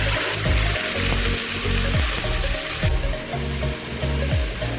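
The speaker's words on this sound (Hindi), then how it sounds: "ऑयल हमारा गर्म हो चुका है। अब हम इसमें अदरक लहसुन और प्याज का पेस्ट शामिल करेंगे।" Ginger, garlic and onion paste frying in hot oil for mutton paya, a loud, dense sizzle with bubbling crackle and occasional stirring thumps throughout.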